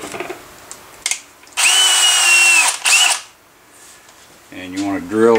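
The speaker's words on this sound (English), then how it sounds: "take your drill, put a 16th inch bit in it" A power drill with a 1/16-inch bit whirs loudly into metal for about a second and a half, briefly spins again, then stops; quiet murmuring before and a voice after.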